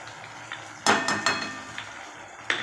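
A utensil clinks and scrapes against a pan while Manchurian gravy with tomato and Schezwan sauce is mixed, several sharp metallic taps spaced irregularly over a quiet background.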